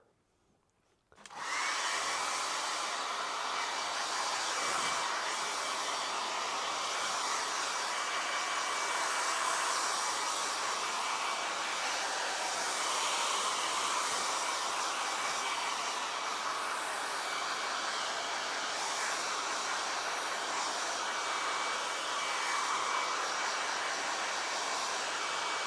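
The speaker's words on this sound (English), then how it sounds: "I'll probably speed it up with the hairdryer" A hair dryer drying a dyed nubuck leather jacket switches on and blows with a loud, steady whir that continues unchanged for a long stretch.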